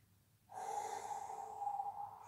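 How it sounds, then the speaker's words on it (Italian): A single slow, steady inhale through the nose during a yoga exercise, close and soft, lasting about two seconds with an airy hiss and no talking. "dentro il respiro"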